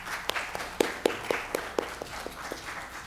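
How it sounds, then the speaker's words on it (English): A conference audience gives sparse, distinct claps, a handful of separate hands slapping in an uneven rhythm at a modest distance, fairly faint overall. "Give yourselves a round of applause."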